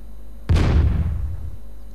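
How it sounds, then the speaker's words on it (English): A single heavy cannon shot booms out in the Svea Rike II strategy game, a sharp loud blast whose low rumbling tail decays over about a second. "They've upgraded their cannons."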